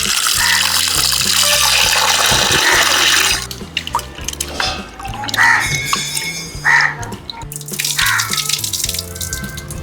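Water runs and splashes while minced mutton is washed by hand, loud at first and then broken into sloshing and dripping bursts, with music playing underneath.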